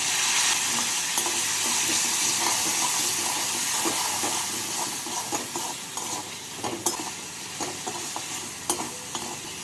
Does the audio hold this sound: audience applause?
no